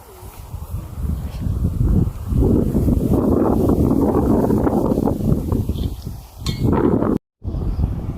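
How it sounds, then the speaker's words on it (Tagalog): Strong gusting wind in open Masungi Baras hills buffets the microphone in a loud, continuous roar that rises and falls, cutting out abruptly for a moment. "Sobrang hangin, no?"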